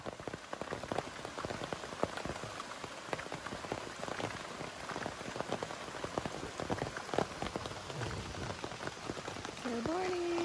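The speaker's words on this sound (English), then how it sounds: "We've got rain." Rain falls steadily at a campsite, dense patter of drops on surfaces close by, continuous and even throughout, with a faint voice briefly near the end.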